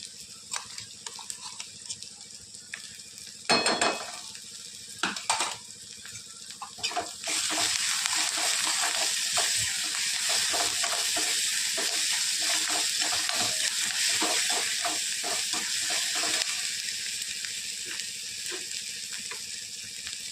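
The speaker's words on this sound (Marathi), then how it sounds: "आता आपण हे हिरव्या मिरच्या ठेसा टाकत आहोत" Onion and green chili paste fries in a pan, starting with a few clinks and stirring sounds before a strong, steady sizzling hiss takes over and continues close up, with no voices.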